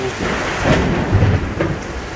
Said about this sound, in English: Have you ever seen a lightning storm like this?